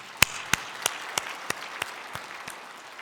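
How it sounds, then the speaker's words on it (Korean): A church congregation claps together in unison, about nine sharp, evenly spaced claps that gradually soften, over a faint murmur of background noise. "우리 주님 앞에 영광의 박수 올려드립니다"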